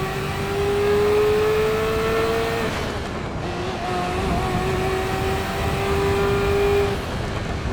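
A classic supercar's engine revs hard in Assetto Corsa EVO, pitch climbing through the gears with brief drops at shifts, loud and close with no voices over it.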